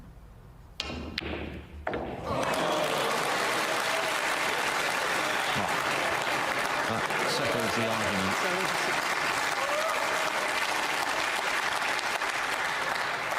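A snooker crowd at the English Open bursts into loud sustained applause after a few cue-ball knocks and thuds, the clapping steady for over ten seconds while a commentator speaks over it.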